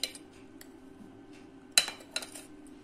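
A metal spoon clinks against a bowl while powdered sugar is added for lassi, a few sharp taps and scrapes spaced out over quiet background.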